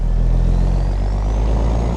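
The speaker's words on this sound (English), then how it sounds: "I love this engine sound, man" Truck engine in the American Truck Simulator video game, a steady, deep, loud rumble with a low droning hum throughout and no talking.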